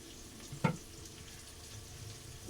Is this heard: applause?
no